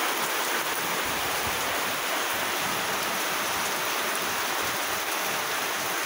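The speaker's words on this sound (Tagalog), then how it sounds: "Lakas ng ulan ngayon." Heavy rain pours steadily during a storm in Masbate, a dense, even hiss that stays loud and constant throughout with no voices.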